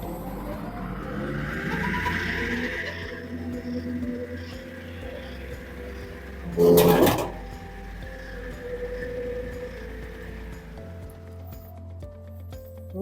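A STvega Belt Cutter industrial vegetable slicer runs steadily, cutting thick cucumbers into 8 mm slices. A continuous mechanical hum and rattle carries throughout, with one louder burst of clatter partway through.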